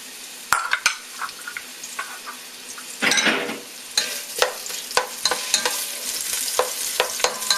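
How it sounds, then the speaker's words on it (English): Onion and garlic hit hot oil for a butternut squash soup, sizzling and frying steadily up close while a utensil stirs and scrapes the pan in repeated clicks, with no voices. "So once your oil's heated up, you can just throw your onion and your garlic in."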